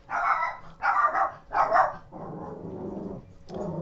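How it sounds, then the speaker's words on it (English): A dog barks three times in quick succession, close and loud, then lets out a lower drawn-out growling whine followed by another rough vocal burst. "I think I hear a companion in the barking of a dog."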